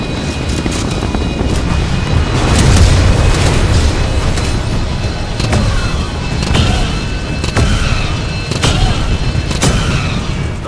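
A Titan drops from orbit in Titanfall 2 during a Frontier Defense match: heavy booms and blasts land loudly amid repeated explosive impacts and rumbling combat, close and dense throughout.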